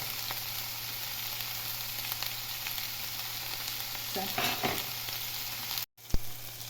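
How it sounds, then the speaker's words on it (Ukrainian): Soft, steady sizzling of vegetables frying in oil in a pan, with a brief stirring clatter near the end. "додаю трішки масла, щоб воно обжарювалося на маслі."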